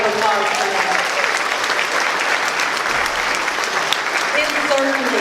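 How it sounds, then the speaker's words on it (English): A gala audience for a men-of-honor awards dinner breaks into sustained, loud applause that stays dense and even throughout, with murmured voices blending in. "Can we give them one final round of applause tonight?"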